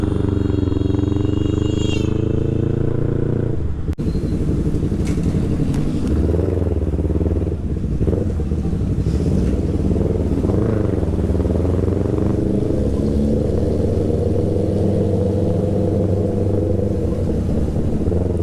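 A motorcycle with a modified exhaust, ridden with the clutch released, gives a loud, heavy rumble that runs continuously at close range, with shifting revs and a sharp change partway through.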